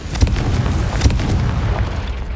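A Confringo blasting spell from the Hogwarts Legacy video game, heard as a few loud, booming bursts with sharp pops over a continuous rumbling roar.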